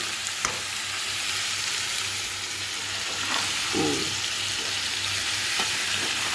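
Spice paste cooking in a pan after a splash of water, a continuous loud hiss and sizzle close by, broken by a few sharp stirring scrapes and a brief bubbling burst.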